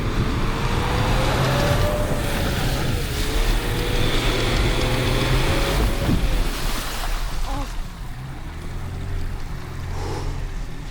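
Range Rover L322 TD6 crawling over icy, frozen ground in a winter forest, a steady broad rumble with scraping and crunching underneath throughout, the engine droning low and continuous close by.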